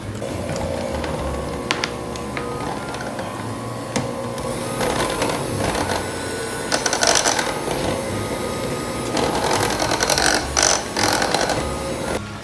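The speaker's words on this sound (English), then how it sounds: "So I'm just going to be using our hand mixer today since I don't want to get the KitchenAid mixer dirty" Electric hand mixer whirring steadily through yogurt cake batter, a continuous close motor drone with rattling and scraping bursts as the beaters hit the bowl, no talking.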